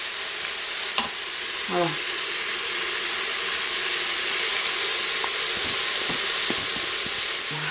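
Mushrooms sizzle and crackle steadily in a hot frying pan, with stirring throughout; a voice speaks briefly early on.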